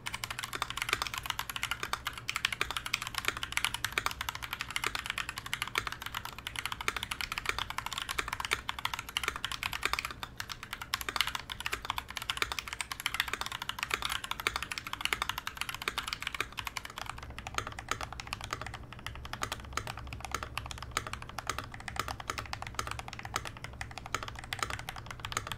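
Steady fast typing on a modded MK870 mechanical keyboard fitted with Cherry-profile PBT keycaps. Dense, close, continuous keystroke clacks run throughout over a low hum, with no talking.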